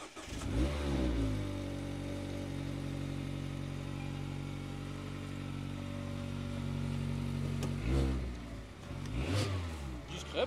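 A Mazda MX-5 engine cranks and catches, then settles into a steady, throaty idle before revving sharply a couple of times near the end.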